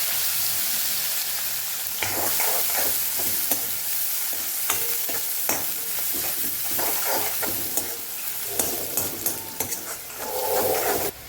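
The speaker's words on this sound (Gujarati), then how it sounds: "થોડી હિંગ ઉમેરશું અને ડુંગળીનો વઘાર કરી દઈશું" Chopped onion tempering in hot oil with asafoetida: a constant bright sizzle fills the pan while a spatula clinks and scrapes in an irregular rhythm, close and fairly loud.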